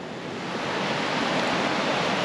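River water flowing in a broad, steady rush, swelling slightly louder after the first moment and then holding even, close by with no talking.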